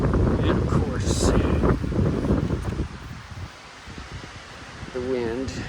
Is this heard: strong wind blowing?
yes